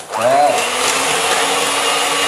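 An electric hand mixer whirs steadily through terang bulan batter, a loud continuous motor drone with a brief rising pitch at the start, close and alone.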